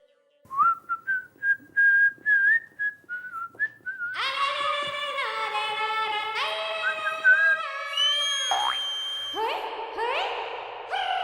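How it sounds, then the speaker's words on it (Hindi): A person whistles in short, melodic, speech-like phrases, as if talking through whistles. Longer, fuller tonal whistling follows, loud and close. "या भाई बंद करना या सीटी बजा के बात करने का।"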